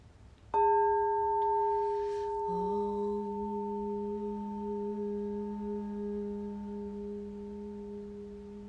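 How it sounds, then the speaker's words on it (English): A singing bowl is struck once, ringing out with clear sustained tones that shift slightly after a moment and then hum on, slowly fading. "we just played the sound bowl. I'll hit it one more time for you"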